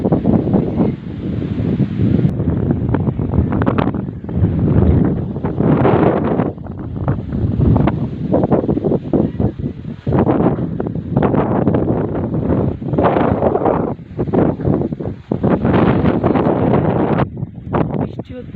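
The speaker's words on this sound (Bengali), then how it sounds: "হাওয়া হচ্ছে, আর সঙ্গে ঝিরিঝিরি বৃষ্টি।" Steady wind gusting outdoors during light drizzle, with coconut palms and rooftops nearby, forming a loud continuous rushing roar with surges and dips that buffets the microphone throughout.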